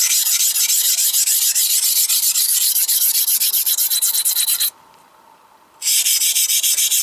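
A well-worn Henckels chef's knife is stroked across a fine sharpening stone in fast, even rasping passes, close and loud, with a short pause before the strokes resume.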